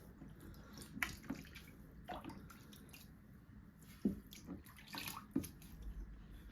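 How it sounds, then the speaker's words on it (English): Water sloshes and drips as a turtle tank filter sponge is squeezed and rinsed in a bucket, with irregular splashes and squishes close by and fairly soft. "Just kind of keep squeezing it,"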